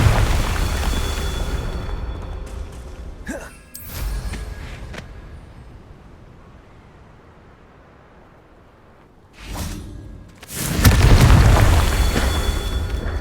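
Blasting spell explosions in Hogwarts Legacy go off as deep, heavy booms with rumbling tails: one burst early, a quieter lull, then two more loud blasts near the end, close and forceful.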